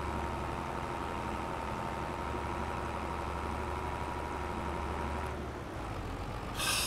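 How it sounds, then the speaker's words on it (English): Tractor engine in the video game Silverrun Lumber, held in fourth or sixth gear at high RPM while climbing a hill: a steady, loud low drone that holds even for about five seconds, then dips, with a brief brighter burst at the end. "So we'll see if this tractor can make it up here."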